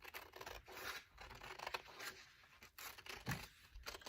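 Scissors cut through fabric for a face mask pattern, giving a continuous close rasping, snipping sound with uneven strokes and brief pauses, no talking.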